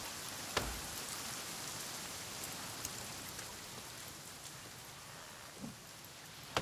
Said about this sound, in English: Boy, it's raining good now.